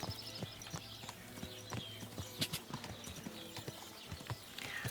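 A horse's hooves clip-clop at a steady walking rhythm in Kingdom Come: Deliverance 2. The sharp, even footfalls sound moderately close and fairly quiet, with no talk over them.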